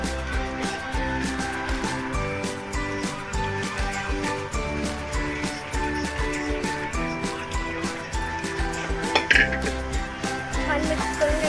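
Pav bhaji gravy with smashed vegetables is stirred in a pan, giving a steady run of quick metal clinks and scraping taps from the utensil against the pan, loud and close.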